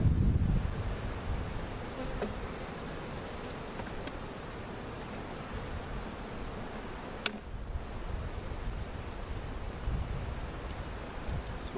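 Honeybees from a very large hive cutout at a bee farm swarm around the opened hive, making a dense, steady buzzing hum that fills the scene with no talking.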